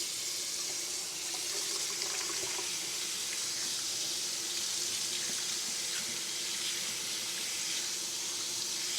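Steady broadband rush of tap water running into a sink during handwashing in a home kitchen, continuous and fairly close for the whole stretch, with no voices.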